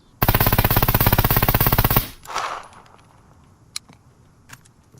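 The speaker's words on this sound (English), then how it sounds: "Okay, this time we're doing hip fire with no recoil control" Full-auto rifle fire from the hip in SCUM, an Mk18 or AS Val, a rapid unbroken burst of about two seconds, loud and close, followed by a faint rattle and a couple of isolated clicks.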